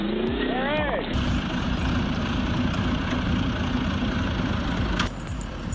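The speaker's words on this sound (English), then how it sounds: "even the Jeep Honcho J10 had to struggle hard to pull it out of the ground" Jeep Honcho J10 engine labouring steadily while pulling an old apple stump from the ground, a low continuous drone heard close, with a voice speaking over it at the start.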